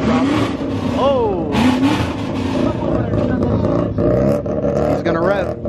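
Rotary-engine car revving at a crowded car meet, rising and falling engine pitch sweeps that climb in bursts, loud and close, with people talking and shouting over it.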